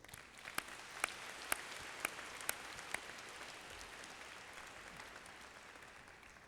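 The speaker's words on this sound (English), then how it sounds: "Let's give them a round of applause." Faint, distant applause from a graduation ceremony audience fills the room, with a few sharper individual claps standing out early before the clapping settles into a soft, even wash.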